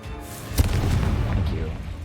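Confringo fire spell cast in the video game Hogwarts Legacy, a sharp booming blast that bursts out and rumbles on amid continuous game noise, with a voice talking over it.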